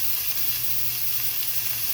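About three pounds of beef sizzle in a very hot pan, giving a loud, continuous frying hiss close by with no voices.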